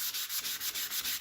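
Sandpaper rubs by hand across a guitar headstock without a block, a quiet, close scratching in quick, even back-and-forth strokes, about six passes in just over a second.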